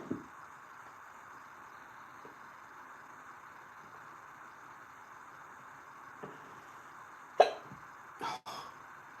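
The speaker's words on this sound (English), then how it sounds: "I got the hiccups." A person hiccups a few times, sharp brief bursts standing out over a quiet background with steady low noise.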